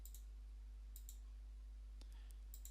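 Soft computer mouse double-clicks while selecting a slab command in 3D building-modeling software: three close pairs of crisp clicks spread over a quiet room hum, with no talking.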